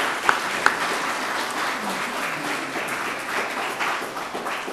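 Applause from a church congregation during a Sunday service, cheering on runners preparing for a 20 km race: steady, dense clapping of a medium-sized crowd throughout, fairly near, with a couple of sharper individual claps at the start.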